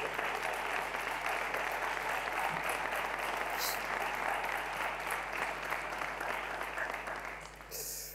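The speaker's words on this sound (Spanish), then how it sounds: "no lo dejen solo los aplausos" Steady, sustained applause from an audience at a formal ceremony honouring an official chronicler, a dense wash of clapping that runs unbroken for several seconds before tapering off at the end.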